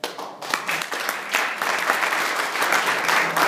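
An audience at a political forum applauds its candidates, a dense burst of clapping that swells quickly and holds steady and loud for several seconds.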